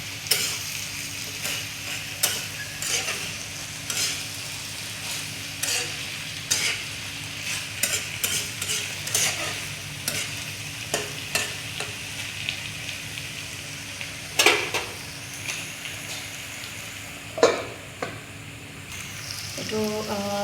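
Pork stomach stirred in a frying pan with red chilli, a steady sizzle broken by repeated scraping and clacking strokes of a utensil, close and fairly loud with no talking.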